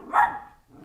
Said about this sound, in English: Teddy, no bark, no.